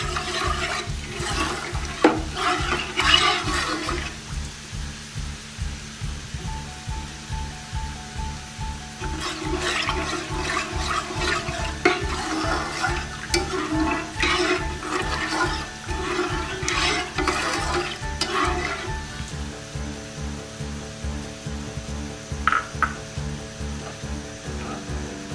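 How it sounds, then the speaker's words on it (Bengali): Milk powder being stirred slowly into warm milk, a continuous rhythmic scraping and swirling of a spoon in a pan with liquid sloshing, steady and close. "হালকা গরম দুধে আমি গুঁড়ো দুধটা আস্তে আস্তে মিশিয়ে দিলাম"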